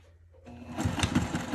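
A sewing machine starts up and runs steadily while top stitching a bag seam, its motor hum and rapid needle clatter rising from quiet to a close, continuous whir.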